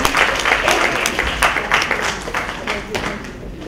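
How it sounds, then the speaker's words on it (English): A round of applause from a conference audience after a research presentation, with steady, fairly close clapping over the full stretch and some speech in the background. "Another round of applause"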